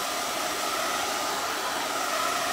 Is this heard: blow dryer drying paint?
yes